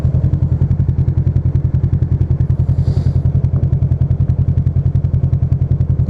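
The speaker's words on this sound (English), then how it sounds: "The power of a motorcycle, man, it really is a bit too much." A motorcycle engine idles close by with a fast, steady, even thumping pulse, loud and continuous with a slight clattering edge.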